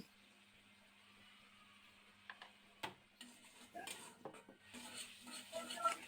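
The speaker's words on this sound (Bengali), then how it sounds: "এবারে আবারও সবকিছু ভালো করে নেড়ে চেড়ে কষিয়ে নিচ্ছি" A pan of Bengali-style pabda fish curry is stirred with a utensil, giving faint scraping and clinking taps that grow busier and louder toward the end over a low background hum.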